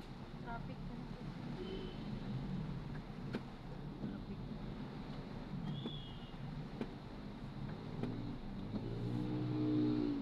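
Road traffic in Makati along Paseo de Roxas toward Pio del Pilar: a steady rumble of car engines with occasional revving, heard fairly close and continuous under wind noise, with people talking throughout.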